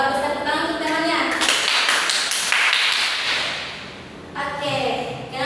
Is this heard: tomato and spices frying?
no